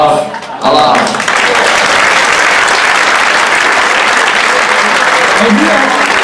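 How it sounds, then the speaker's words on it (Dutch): Sustained, loud applause fills a carnival gala hall for the youth council of CV De Knoll'ntrekkers, starting abruptly after a brief voice and continuing as dense, even clapping from a large crowd. "Geef ze nog een keer een applaus voor de jongeren van de"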